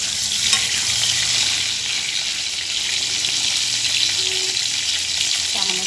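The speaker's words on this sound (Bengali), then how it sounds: "সামান্য একটু নুন দিয়ে পটলগুলোকে ভালো করে ভেজে নেব" Pointed gourd pieces fry with a little salt in a pan, giving a steady, loud broadband sizzle that runs the whole time with faint stirring scrapes and no voices.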